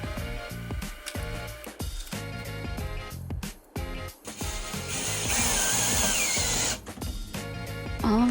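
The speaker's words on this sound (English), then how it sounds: "we just set up the drill press, which is right there" A drill press whirs in repeated bursts with pauses between, then a longer sustained high-pitched drilling run, loud and close.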